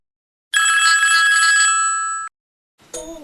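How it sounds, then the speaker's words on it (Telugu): A phone rings with an incoming call: one loud, close electronic ring lasting almost two seconds, then a short pause and the start of a second ring. "మనోడికి ఓ ఫోన్ కాల్ వచ్చింది"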